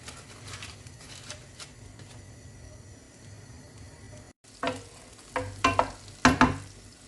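Butter, garlic, tomato and mushroom sizzle in a frying pan for a pork dish, a soft steady crackle broken by a brief gap, then louder stirring scrapes and bursts of frying.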